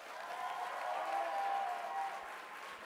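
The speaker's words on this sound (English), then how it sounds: "let's give Tom another round of applause" An audience at a university investiture ceremony gives a round of applause, a soft, distant, steady wash of clapping lasting a few seconds.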